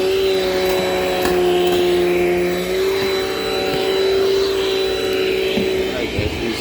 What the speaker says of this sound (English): we're gonna set up some wrappers with this vacuum, see how it does that way